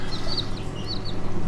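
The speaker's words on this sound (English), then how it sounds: "they are chirping very loud, screaming for their mother" Several Red Mottled Ancona bantam chicks chirp in quick, high-pitched bursts over a low steady hum, their calls overlapping loudly at close range.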